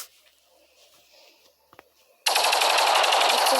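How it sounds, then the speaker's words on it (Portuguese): After a quiet stretch with a faint click, video game gunfire bursts in suddenly as a loud, continuous rapid stream of shots. "E ficar atirando toda hora"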